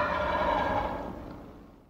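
A wild turkey in Pennsylvania gobbles once, a rapid rattling burst that starts strong and trails off over about two seconds, heard at moderate distance.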